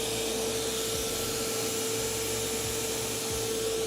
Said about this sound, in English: So this is the shot blaster running along